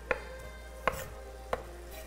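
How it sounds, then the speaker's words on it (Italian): A kitchen knife chops capers and basil on a cutting board, three sharp, close knocks evenly spaced under a low steady background hum. "Capperi e il basilico che ora vado a affettare, non affettare, a tagliare"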